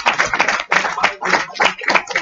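Close, loud applause for office staff, a brisk group clapping in uneven bursts throughout.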